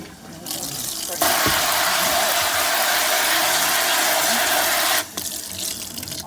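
A spray bottle hisses warm water onto sheets of paper tinted with acrylic paint, one steady close spray lasting about four seconds between quieter moments.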